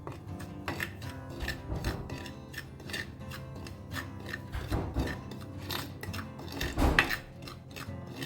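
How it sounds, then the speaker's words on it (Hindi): Spices and salt are stirred together in a bowl for Goan-style stuffed mackerel, producing faint, steady scraping and light clinking strokes with an even rhythm. "अभी दोनों को ना अच्छे से मिक्स करते हैं"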